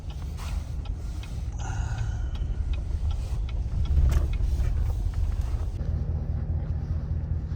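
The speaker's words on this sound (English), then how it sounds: "traffic's moving." Cars move slowly in traffic up a snowy mountain road after a storm, heard from inside a vehicle as a steady low engine and road rumble with occasional creaks and clicks, no talking.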